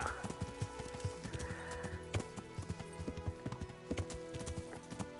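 A horse in the medieval video game Kingdom Come: Deliverance, hooves clip-clopping at a steady walking rhythm with a brief whinny early on, fairly quiet and with no talk.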